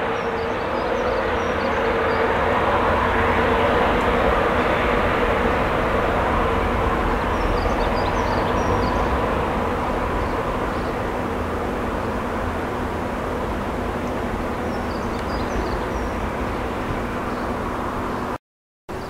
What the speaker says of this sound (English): just make out some diesel trains.